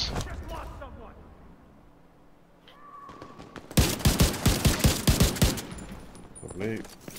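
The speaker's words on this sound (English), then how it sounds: "I like this new rifle." Rifle gunfire in the Division 2 video game: a loud, rapid burst of about a dozen evenly spaced shots, with a voice talking over quieter game sounds beforehand.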